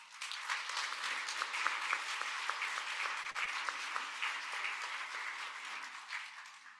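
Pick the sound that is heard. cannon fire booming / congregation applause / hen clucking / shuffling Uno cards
congregation applause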